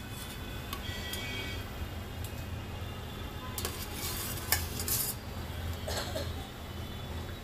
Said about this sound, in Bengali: এবারে ঝোল তো ফুটতে শুরুই করেছে, এর মধ্যে আমি আলু ভাজাগুলোকে দিয়ে দিচ্ছি